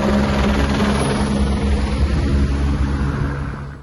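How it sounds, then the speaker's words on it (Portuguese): Civil Police helicopter supporting a police operation, a steady loud rotor and engine roar close overhead, continuous and unbroken, with no talk. "A operação contou com o apoio do helicóptero da Polícia Civil."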